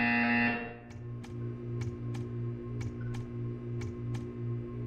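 A short electronic buzzer hum in the game Portal 2 fades out, then sharp, regular ticking clicks repeat about every half second over a constant low drone.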